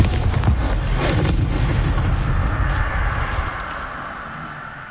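A Bombarda spell explodes in Hogwarts Legacy as a loud, dense, rumbling blast that holds for a few seconds before fading toward the end.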